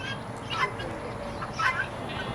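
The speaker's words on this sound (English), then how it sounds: "Those are turkeys." Turkeys on a farm: two short bursts of gobbling and clucking calls, moderately near but fairly quiet, over a low background hum with no clear talk.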